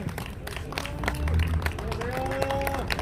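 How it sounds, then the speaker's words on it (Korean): Audience at a Busan political rally clapping and cheering as a lawyer is introduced, a dense steady applause near and loud, with a short tonal sound rising briefly above it. "큰 박수 부탁드리겠습니다"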